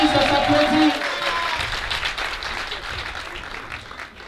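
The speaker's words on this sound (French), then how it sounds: "S'il vous plaît, ça s'applaudit, ça s'applaudit." Applause from an audience at a political mobilisation rally in Yopougon, Côte d'Ivoire, crowd clapping steadily and fairly loud, fading slightly over a few seconds, with voices mixed in at the start.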